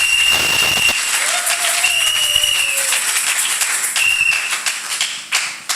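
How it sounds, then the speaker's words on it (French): A church congregation at a Sunday service applauds loudly for the Lord, a dense, sustained wash of clapping with a few whistles and cheers riding on top, close and continuous until it fades near the end. "Acclamez très fort pour le Seigneur."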